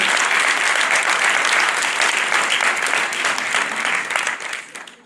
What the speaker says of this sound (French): applaudissez-le bien fort s'il vous plaît